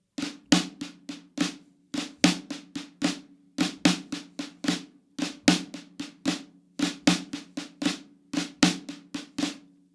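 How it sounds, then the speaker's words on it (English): Snare drum plays the flamacue rudiment, repeating groups of five quick strokes, each opening with a flam, crisp and evenly spaced with short gaps between phrases. "So our flamacue, without any context,"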